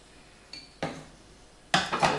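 A metal cooking pot is picked up and set down in a kitchen, giving a few sharp clinks and clatters of pots and utensils, the loudest near the end.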